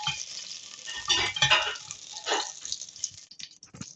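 Butter melting and sizzling in a pan while making apple pie, a bright crackling hiss with bursts of stirring and scraping, fairly close and alone without talk.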